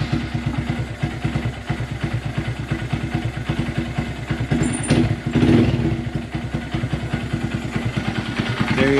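A 2022 Honda Grom motorcycle engine with a Chimera exhaust starts and idles steadily with a rapid, chugging rhythm, revving up briefly midway before settling back into a loud, close idle.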